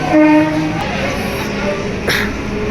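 A twelve-coach Canning local train rolls past at close range with loud rumbling and rail clatter, a short horn blast at the start and a brief hiss near the end.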